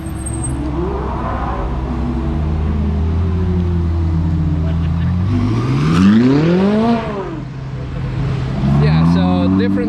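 Cars at a Friday night car meet in Zagreb: engine drones and revs with a sharp rising acceleration sweep midway and another revving car near the end, under people talking.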